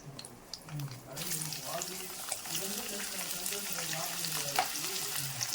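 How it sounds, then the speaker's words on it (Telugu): Cashews, onions and green chillies fry in a pan for a country chicken fry, with a dense, continuous sizzle and occasional stirring taps close by, while a voice talks over the cooking. "ఇది కొద్దిగా వేగిన తర్వాత మనము ఆనియన్స్, పచ్చిమిర్చి వేసేద్దామండి"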